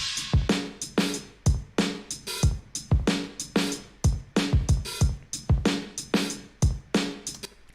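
A full drum kit mixed with a vintage character, flux and slapback delay, playing a steady driving groove of punchy kicks and snares with a bouncy echo trailing each hit, loud and alone.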